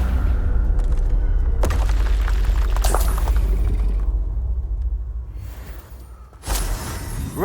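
Confringo spell explosions in Hogwarts Legacy: repeated heavy booms and blasts with crackling bursts over a constant low rumble, a sharp impact near the end, loud and close.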